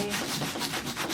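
Sandpaper rubs back and forth over denim jeans in quick, even scratchy strokes, close and fairly quiet, with no voices.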